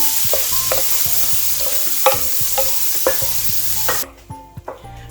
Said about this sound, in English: So while I'm waiting for our onion to be cooked